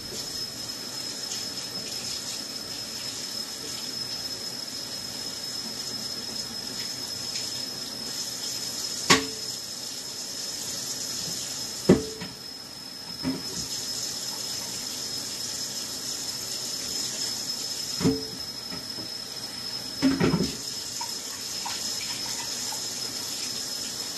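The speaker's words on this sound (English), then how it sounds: "Rinse one more time." Tap water runs steadily and faintly while juicer parts are rinsed, with a few sharp clinks and knocks of the plastic parts against the sink breaking through the hiss.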